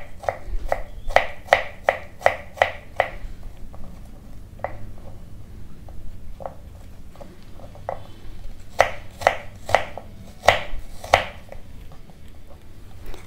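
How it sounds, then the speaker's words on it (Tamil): Kitchen knife finely chopping fresh mint leaves on a board for a watermelon mocktail garnish, with quick rhythmic bursts of crisp taps separated by a short pause, close and clear with no talking. "இந்த புதினா வந்து நல்லா ஃபைனாக இப்படி கட் பண்ணிக்கலாம்."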